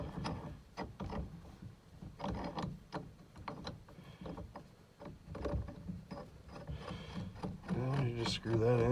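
A long threaded bolt being screwed in during a 1978 Chevy Camaro ignition replacement, giving a run of close, uneven ratcheting clicks and mechanical scrapes, with denser rapid clicking toward the end.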